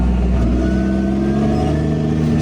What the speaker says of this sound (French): Il fait un bruit de zinzin ce tracteur.